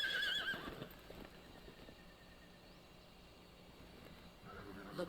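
A horse in Metal Gear Solid Delta: Snake Eater gives a loud, shrill whinny at the start, then a quieter stretch of faint hoof movement and ambient noise.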